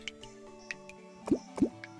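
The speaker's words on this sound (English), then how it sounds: "glow sticks are handy, right? We can chuck those in the water." Glow sticks splashing into water in the Terraria video game, two quick soft plops close together over quiet game background tones, with a few fainter drips around them.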